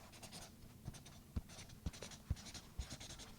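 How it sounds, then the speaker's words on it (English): Pen on notebook paper makes soft rhythmic scratching strokes with a few sharper taps, heard close and intimate in a quiet ASMR setting with no talking. "Do you prefer if you could see my notebook when I write?"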